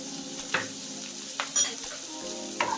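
Green chili, finely chopped onion and grated carrot fry with cumin and mustard seeds in a hot pan, giving a steady sizzle broken by a few sharp scrapes of a stirring spoon, close and alone.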